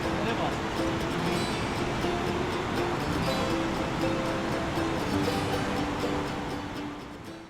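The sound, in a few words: mountain stream flowing over stones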